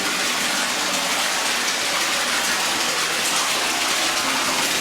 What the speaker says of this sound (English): this one's got a pipe with water coming out of